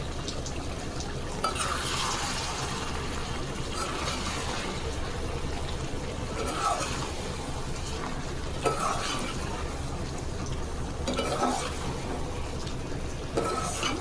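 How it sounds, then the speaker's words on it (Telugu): Chicken curry with fresh coriander stirred in a pan on the stove, a close, continuous sizzle and wet scraping with louder stirring bursts every few seconds and no talking. "ఇప్పుడు ఒకసారి తిప్పుకుందాం"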